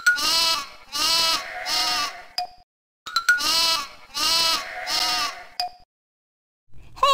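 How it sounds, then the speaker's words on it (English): Cartoon sheep bleats from a Sesame Street computer game: two bursts of three loud, clear electronic baas, each burst ending in a short beep, with no other sound. "Press any key and it'll make a sheep sound."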